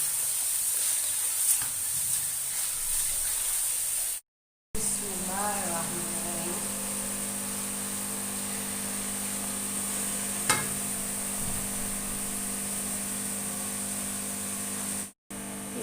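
Masala frying in ghee in a pan for aloo methi, a steady close sizzle and hiss running throughout with a few stirring scrapes, broken by two brief cuts to silence; no one talks.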